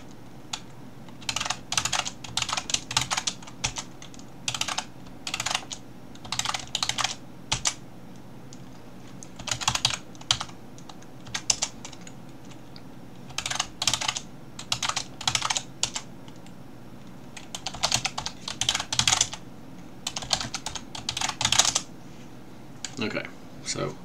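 Bursts of typing on a computer keyboard as a password is entered, rapid clustered keystrokes in short runs separated by pauses over a steady low background hum, close and moderately loud.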